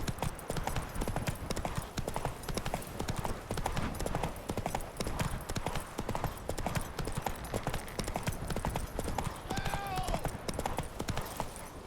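Horse hooves galloping in the Witcher 3 video game, a rapid, steady clip-clop rhythm that runs throughout at moderate loudness, with faint game sounds layered over it.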